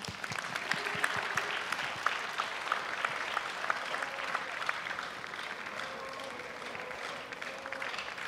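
An audience applauds a student orchestra at the close of its regular concert, sustained clapping filling the hall for several seconds, with a few brief voices beneath.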